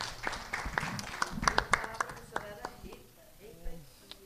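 A closing-ceremony crowd applauding a team of girls, scattered hand claps and a short round of clapping mixed with people talking nearby.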